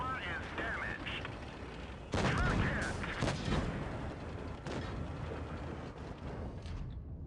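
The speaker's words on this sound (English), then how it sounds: "One more shot into Jason removes him from the game" Tank cannon fire in the mobile game World of Tanks Blitz, a loud booming shot with a rumbling tail amid ongoing battle noise and engine drone, followed by further softer shots.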